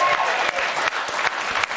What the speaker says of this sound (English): round of applause for Gary.